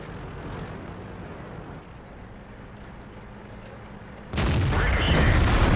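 Tank cannon fire and a shell ricochet in the World of Tanks video game, played on an American T32 heavy tank: a heavy low rumble of battle noise, then a sudden loud blast near the end.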